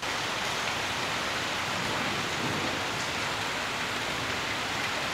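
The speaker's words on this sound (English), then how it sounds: "it starts to pour down rain." Heavy rain pours down in a continuous, even hiss of dense drops hitting surfaces. The downpour stays steady and close, with no voices.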